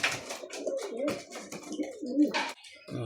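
A racing pigeon at a loft in Calbayog, Samar, gives a run of near, rolling coos with brief pauses between them, heard alone without talk.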